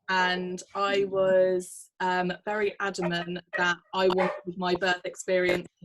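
A dog barks in short bursts behind a woman's steady, close conversational speech, its calls partly buried under the talking.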